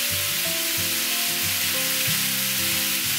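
A lasagna sauce with carrots and swede is stirred in a hot pan, making a loud, continuous sizzle that fills every moment without pause, with no talking over it.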